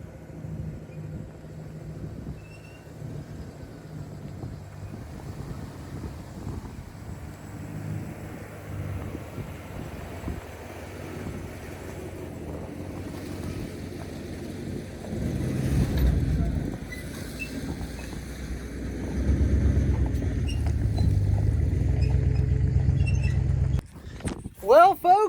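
A homemade vehicle drives through a ditch, its low engine rumble building and growing louder as it moves, with wind buffeting and rough clunks near the end, under occasional talk.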